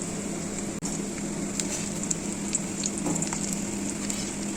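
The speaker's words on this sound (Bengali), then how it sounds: "এখন এই ম্যাগিগুলো আমি ওই কড়াইয়ের মধ্যে দিয়ে দেবো" Maggi noodles hit a hot kadai with fried onions and sizzle steadily, a dense continuous frying hiss with small pops and one brief clatter near the start.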